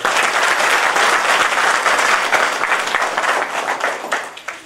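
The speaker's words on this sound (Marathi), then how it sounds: "आपण सर्वांनी जोरदार टाळ्या वाजवल्या" Loud, sustained applause from an audience fills a farmers' group felicitation ceremony in a village, dense clapping continuing steadily throughout with no speech.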